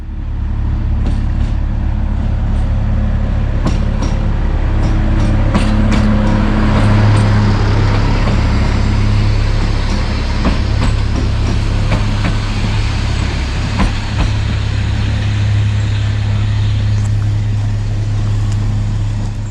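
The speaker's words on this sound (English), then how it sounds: "first we're going to take a look at the arrival of my train today" A Hungarian MK45 diesel locomotive hauling two carriages on the Children's Railway in Budapest pulls into a station, a loud steady low engine drone with a tonal hum and rattling clanks throughout, heard alone.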